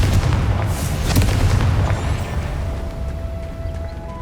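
In Hogwarts Legacy, a Confringo blast spell lands as a heavy, booming explosion with a deep rumbling body that rolls on and fades, followed by a lingering tonal hum from the game environment.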